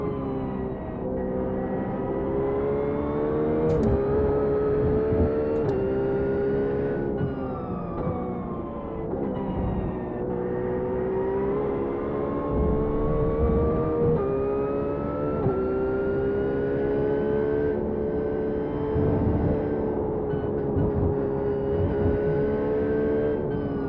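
GT race car engine on a warm-up lap at Watkins Glen International in iRacing, droning continuously with smooth pitch rises and drops through gear changes and throttle, close and steady for the whole stretch.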